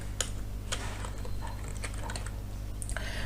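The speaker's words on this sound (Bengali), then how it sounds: "আমি আমার এটা টাইপ করে দিচ্ছি" Quick, light taps on a computer keyboard in short irregular bursts over a quiet background hum, close by with no talking.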